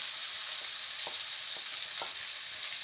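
Spices and ingredients sizzling in a hot pan for moong dal, a steady bright hiss of frying with a few soft stirring scrapes of a spoon at regular intervals, close and alone.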